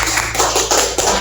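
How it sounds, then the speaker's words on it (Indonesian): Classroom applause for a group of presenters, quick irregular claps from a small group of people, close and loud, lasting about a second. "Kita beri tepuk tangan untuk"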